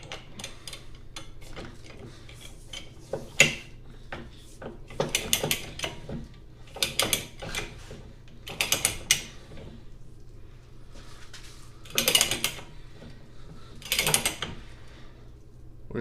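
Ratcheting pipe threader cutting threads on gas pipe, a series of separate ratchet clicks and clunky strokes spread over several seconds, fairly close with quiet pauses between them.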